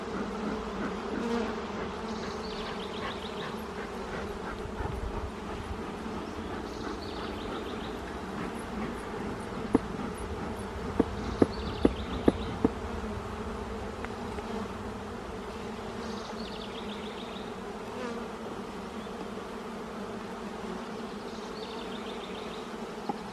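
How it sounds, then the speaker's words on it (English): Bees at an open beehive during an inspection hum in a steady, dense drone that carries unbroken throughout, with a few sharp clicks partway through and no talk. "Lots of bees up here."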